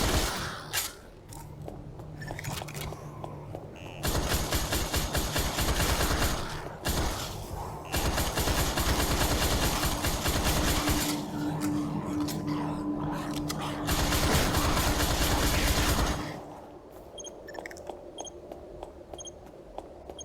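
Long bursts of rapid, dense gunfire in the PSVR zombie shooter game Pancake House rattle continuously with short pauses between volleys, then give way to quieter mechanical clicks and thuds.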